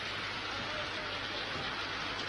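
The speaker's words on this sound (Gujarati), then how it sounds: "વિસ્તારોમાં અનરાધાર વરસાદ વરસી રહ્યો છે" Heavy rain falls in Keshod, Junagadh, a uniform, faint hiss of dense drops that holds steady throughout with no voices.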